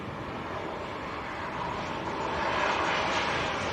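An airliner touching down at Leeds Bradford Airport, heard as a broad, continuous engine roar that swells slightly as it passes, steady and moderately loud at a distance with no talk over it.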